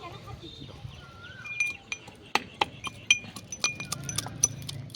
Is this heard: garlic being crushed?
yes